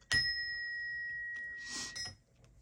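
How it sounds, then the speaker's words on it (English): A bell rung once during a card-reading session, giving a sharp strike followed by a long, steady ringing tone that lingers for about two seconds, then a brief soft rustle as it fades. "I'm gonna actually do a bell to clear the space."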